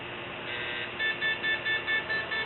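A PETN explosives trace detector alarm sounds after swabbing a door handle: a steady electronic tone with a series of about six short, evenly spaced beeps, close and fairly quiet, with no talking.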